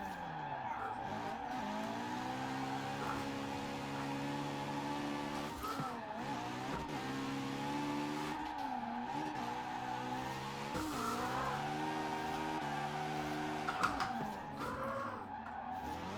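Rotary-engined drift car in Forza Horizon 4 screeching through a long handbrake slide, its high revving engine note rising and falling steadily across the whole stretch alongside continuous loud tire squeal.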